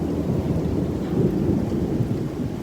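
Constant, rolling thunder rumbles on without pause during a Houston storm, with steady rain hissing underneath; the low roar stays heavy and continuous.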